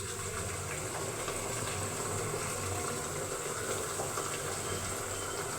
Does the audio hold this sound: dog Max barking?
no